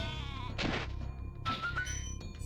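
Sheep bleating in the Spyro video game, two wavering bleats in quick succession over a quiet game backdrop, clear and fairly close.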